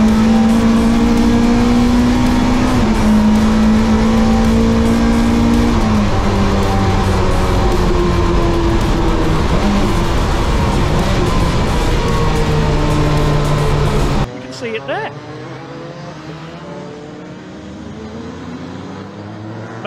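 Racing cars lapping a track in a BMW E30 M3 race, engines loud and steady with shifting pitch as cars pass close by, then abruptly fading to a quieter, more distant drone after about fourteen seconds.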